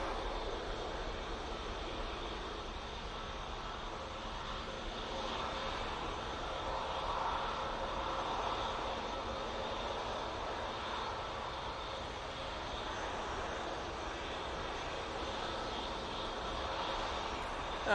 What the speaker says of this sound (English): next in is the Virgin Atlantic A330-300 coming in from New York JFK